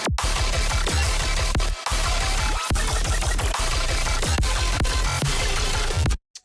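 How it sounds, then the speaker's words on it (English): Electronic growl bass synth in a bass drop, a dense distorted loud wall of bass over repeated punchy kicks with short gaps between phrases, ending abruptly, no talking. "Starts off with this really cool growl."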